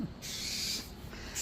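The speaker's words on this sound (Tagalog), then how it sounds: "Yung mga birds nagre-reklamo, wala daw silang food." Pet birds at home call for food in a few short, breathy bursts close by, with no talking.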